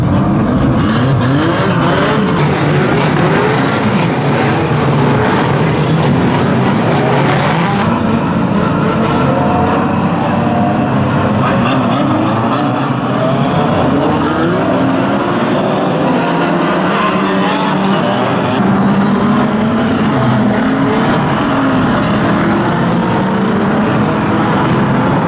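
Unlimited banger racing cars at Kings Lynn start heat one in a dense, loud, continuous roar of many revving engines. The sound stays steady for the whole stretch.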